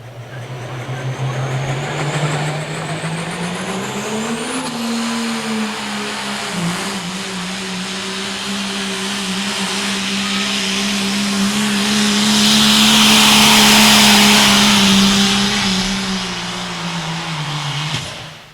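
A pickup truck called Under Pressure roars under heavy load at a county fair truck pull, its engine note climbing steadily then holding a strained, loud drone before dropping off at the end.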